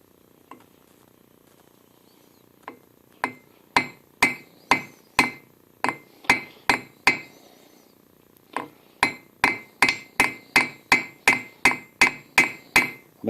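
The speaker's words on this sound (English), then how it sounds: "I'm angling the hammer away just a little bit." Hammer strikes peening a 3D printed tripod wing stud, loud sharp metallic blows in two runs: a few spaced hits, then a brief pause and a steady rapid series of about a dozen evenly timed strikes, close up with no talking.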